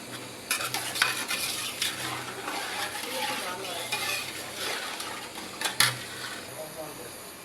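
Fried rice for pilau being stirred in a pot with bay leaf, cardamom, cinnamon, green chilli and raisins, giving a steady close scraping and rustling with soft sizzling and occasional sharper utensil clinks.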